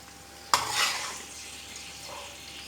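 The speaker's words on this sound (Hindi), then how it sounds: "भिंडियों को फ्राई करते हुए 4-5 मिनट हो गए थे। उसके बाद मैंने 1 मिनट के लिए इसके अंदर प्याज डाल के भी फ्राई कर लिया।" Okra and onion fry in hot oil: a single metallic clink from a utensil is followed by a soft, lingering sizzle that fades to a gentle crackle.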